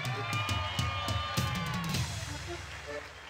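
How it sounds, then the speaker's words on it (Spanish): Studio audience on a Colombian television comedy show cheering and clapping for a guest, a loud, dense crowd roar with whoops and shouts that stays steady for a few seconds, with voices mixed in. "¡Un aplauso para él!"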